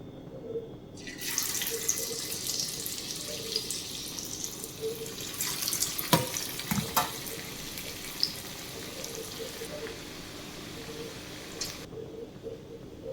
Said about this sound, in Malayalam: ഇനി നമുക്ക് അടുത്ത 4 എണ്ണം ഇട്ട് കൊടുക്കാം എണ്ണയിലേക്ക്